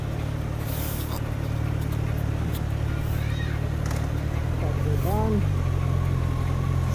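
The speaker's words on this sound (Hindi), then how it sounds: "चलो बाइक स्टार्ट करते हैं" A Kawasaki Z900 motorcycle engine starts and idles in a steady, close, low rumble that runs the whole time, with faint higher chirps over it.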